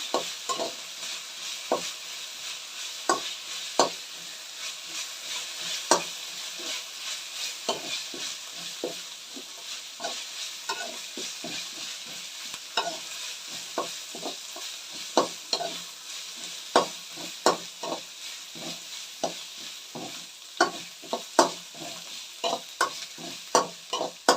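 Ginger garlic paste is stir-fried in a pan, a continuous sizzle broken by frequent sharp scrapes and taps of a spatula at an uneven rhythm over about twenty seconds, with no speech.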